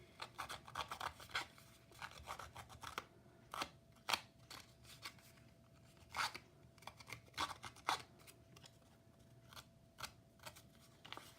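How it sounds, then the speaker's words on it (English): Edges of Tim Holtz paper being distressed with a tool, giving quiet, rapid scraping and snipping strokes in irregular bursts, close up, with no talking. "I have the piece of Tim Holtz paper and I'm going to distress the edges"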